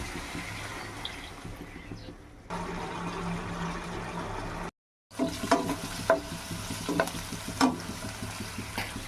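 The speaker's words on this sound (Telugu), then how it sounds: "తర్వాత కొద్దిగా వాటర్ అయితే వేసేద్దాం." Water is splashed into a cucumber and potato curry frying in a pan, producing a steady hiss and sizzle that breaks briefly, then returns with sharp crackles and stirring clatters, with no talk.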